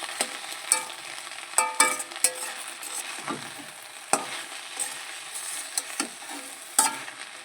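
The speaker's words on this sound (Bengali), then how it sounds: "ভালো করে এটা মিশিয়ে নেব আলু আর বেগুনের সাথে" Potato and eggplant frying with salt in a pan during a Bengali drumstick-leaf dish, stirred steadily with a run of scraping clicks over a continuous close sizzle, with no voices.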